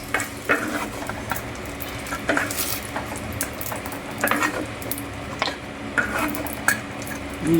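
Green chillies fry in oil in a pan while a metal spoon stirs them, with steady sizzling broken by repeated sharp scraping clicks of the utensil against the pan. Nobody speaks.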